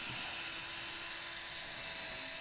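A handheld drill running steadily through a sanding pass on wood, a continuous high whirring buzz with a faint tonal hum, moderately close and alone without speech.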